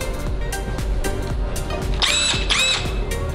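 A Snap-on impact wrench runs loud and close, its rapid hammering pulses over a steady motor whine, with a brief rising squeal near the end.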